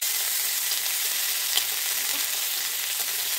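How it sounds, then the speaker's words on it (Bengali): A steady hiss of onion paste frying in hot oil, constant and close, with one faint clink partway through. "তেলে একটু পেঁয়াজ বাটা দিয়ে দেবো, এই পেঁয়াজ বাটা একটু ভেজে নেব।"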